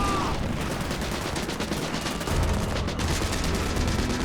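Gunfire on the set of the film Sisu, a dense, loud and continuous clatter of shots that blurs into a steady roar for the full few seconds, with no talk.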